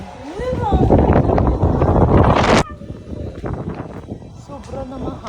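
Strong night wind buffets the microphone outside a hotel in Villar City, a loud continuous roar that drops abruptly halfway through to a lower gusty rush while people talk.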